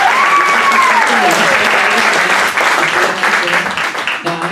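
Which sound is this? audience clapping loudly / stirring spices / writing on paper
audience clapping loudly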